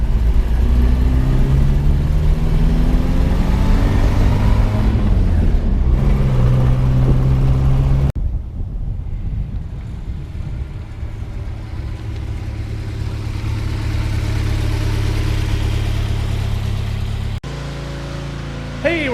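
1961 Morris Minor Series III quarter-ton pickup driving, its mid-pitched engine droning and shifting through revs from inside the cab, with a steady road rumble continuing after a cut.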